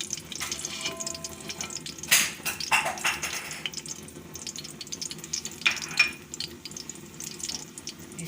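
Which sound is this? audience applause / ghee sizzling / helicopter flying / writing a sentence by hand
ghee sizzling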